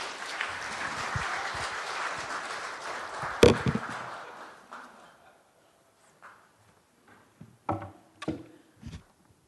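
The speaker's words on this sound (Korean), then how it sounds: "박수 한번 치고 시작해 보겠습니다" An audience at a business CEO forum in Korea claps together in a dense burst of applause that runs for about four seconds, peaks, then fades out, leaving scattered faint thumps and rustles in a near-quiet room.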